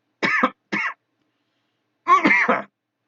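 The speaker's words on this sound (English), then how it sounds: "I'm going to cough." Two short, sharp coughs in quick succession, then a pause and a third harsher cough with a throaty rasp, from a single nearby person during a hybrid meetup stream.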